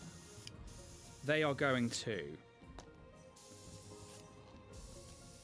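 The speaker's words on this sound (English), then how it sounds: "as I start spraying this mini" An airbrush sprays paint onto a tabletop miniature with a thin, steady hiss that runs throughout, while a person speaks briefly over it.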